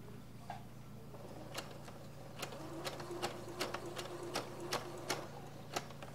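A home sewing machine back-stitching the corners of folded, seamed fabric for a Christmas craft, with short bursts of rapid needle clatter and a steady low motor hum, close and fairly quiet, no talking.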